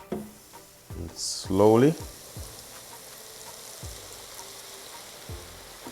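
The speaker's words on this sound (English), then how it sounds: "Gonna fry these up for about 2 minutes or until nice and golden brown" Floured chicken pieces dropped into hot oil for a fried chicken sandwich, giving a short burst of loud sizzling and bubbling with a few clanks nearby. A quiet voice speaks briefly.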